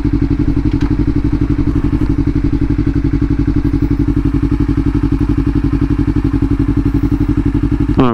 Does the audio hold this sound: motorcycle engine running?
yes